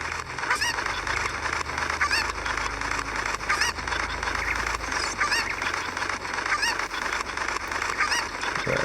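Cuckoo chickens from the video game Zelda: Ocarina of Time, a dense chorus of repeated squawking clucks in quick, overlapping bursts, loud and constant throughout with no talk.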